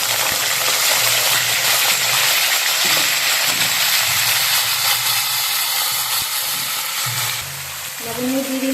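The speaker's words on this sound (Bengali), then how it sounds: "তেল গরম হয়ে গেছে, এবার সবজিগুলো দিয়ে দেবো" Vegetables for Bengali shukto go into hot oil in a kadai, sizzling and frying loudly and continuously with stirring scrapes, easing slightly near the end.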